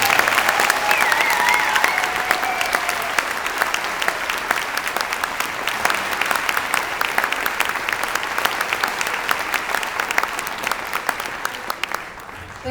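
Steady, loud audience applause for a group of students fills the room, a dense wash of clapping that holds evenly throughout with a few brief whistles early on.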